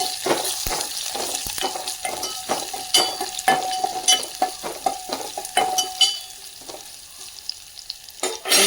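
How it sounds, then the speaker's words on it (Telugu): Curry leaves fry in a pan while being stirred for amla sambar, a steady sizzle punctuated by repeated scraping and tapping strokes of a spoon, close and moderately loud, easing off near the end. "కరివేపాకు అన్నీ ఫ్రై అయ్యాయి. సార్ తిప్పేసుకొని"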